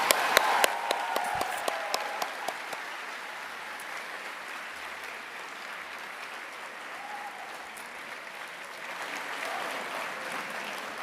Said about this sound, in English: If you could all join me in another big round of applause for our honoree tonight, Dr. Pascal Siakam.